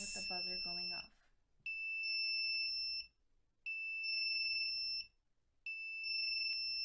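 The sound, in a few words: Arduino alarm buzzer going off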